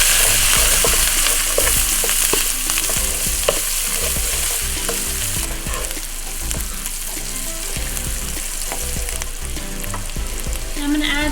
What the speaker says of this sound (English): Start by cooking the garlic, sun-dried tomatoes, and green onion.